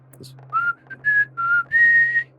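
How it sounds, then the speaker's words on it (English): A person whistles a short tune of four or five sustained, rising notes, close and clear, with a steady low hum underneath. "I'm just gonna give a little whistle"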